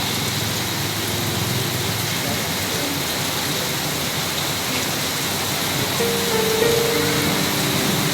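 Sudden heavy downpour in Congressional, Quezon City: dense, steady hiss of rain pouring onto surfaces, loud and continuous, with faint traffic and brief voices underneath.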